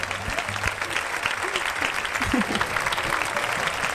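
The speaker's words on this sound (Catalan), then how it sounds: "Un fort aplaudiment, per favor, per als músics d'Alboraya." An audience claps steadily for the Alboraya musicians at a Carraixet 30th-anniversary event, a dense even roar of many hands close by. A few voices are heard briefly under the applause.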